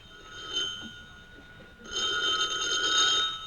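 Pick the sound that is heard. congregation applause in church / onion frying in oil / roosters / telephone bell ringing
telephone bell ringing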